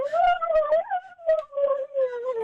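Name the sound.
voice imitating an alien having an orgasm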